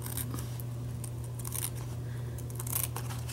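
Paper booklet being trimmed by hand with scissors, a soft crisp snipping and rustling that runs steadily throughout over a constant low electrical hum, with no talking.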